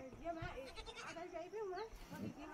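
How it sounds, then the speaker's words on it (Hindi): Village goats bleating in wavering, quavering calls, several overlapping cries close by across the stretch, with a person talking over them. "इनके आधे इनकी बकरी है, आधे हमारी बकरी है"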